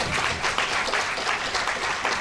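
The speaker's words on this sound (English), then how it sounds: "that deserves another round of applause" Audience applause at a university board of trustees meeting celebrating staff awards, a steady close burst of many hands clapping throughout.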